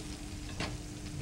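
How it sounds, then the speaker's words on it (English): Cooked pasta drained in an Italian home kitchen makes a soft, quiet splashing and trickling, with one brief louder whoosh of water partway through and no talk. "She's gonna drain it."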